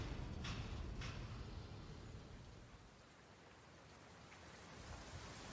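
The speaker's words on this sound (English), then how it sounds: "the downpour was heavy and came down so rapidly that vision would become obscured" Heavy rain pours down on dirt and cement pavement outside an abandoned restaurant, a dense, continuous hiss that swells and eases slightly, with a couple of faint sharp drips near the start.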